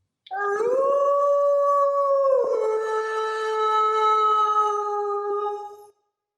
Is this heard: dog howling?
yes